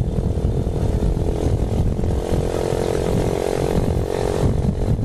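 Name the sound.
Honda TMX 125 motorcycle with loud exhaust pipe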